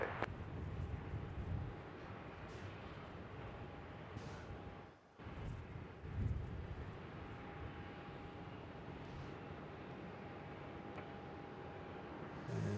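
A Qantas aircraft lands on runway 34 at Melbourne Airport, a steady, distant rumble that stays even through the clip with a brief dip and swell midway and no talk.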